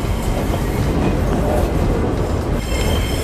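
Trenino Verde tourist train rolling through Sardinia near the coast, a steady loud rumble of wheels and carriages with faint squealing and rhythmic clatter throughout, no voices.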